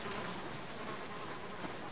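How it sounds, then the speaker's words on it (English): Angry bees swarm in the Subsistence video game after honey is taken, a continuous close buzzing drone with no pauses. "Oh, they're still swarming me."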